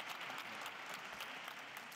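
Conference audience applauding steadily as guests walk onto the stage at a sustainability conference in Hamburg, a dense, even wash of clapping with no voices over it.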